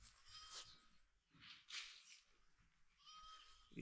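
Goats on a large goat farm bleat in several short, wavering calls, fairly faint and spaced apart, with no talking over them.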